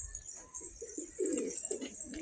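A male pigeon of a mixed show breed gives a series of low, throaty coos in short rhythmic bursts, close by, with faint background noise and no talking.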